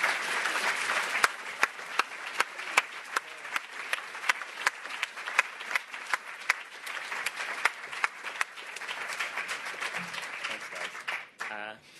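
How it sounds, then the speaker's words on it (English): A large audience at a startup demo day gives sustained applause for a project team, dense clapping with sharp individual claps, lasting about eleven seconds before tapering off. "if everyone could join me in giving them a round of applause"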